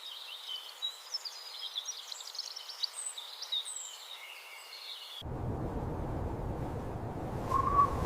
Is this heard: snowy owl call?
yes